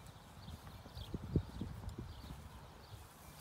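Faint hoof clops from a pony walking at a slow, uneven pace, soft and somewhat distant, with one sharper knock in the middle.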